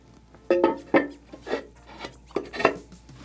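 A ceramic toilet tank lid scrapes and knocks as it is set back onto the tank, a series of close rubbing, grinding contacts with a few sharper clunks.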